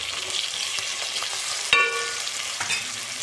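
Potato tomato curry, just seasoned with chilli powder and coriander, is stirred in a pan, with a constant close sizzle, soft scraping strokes and one sharp metallic clink of the spoon against the rim.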